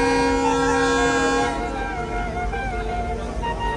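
Passenger train running between Faridpur and Pangsha in Bangladesh, with a steady rumbling roll and sustained tonal whine or horn-like hum, loud and continuous, the tone fading after the first moments as the rumble carries on.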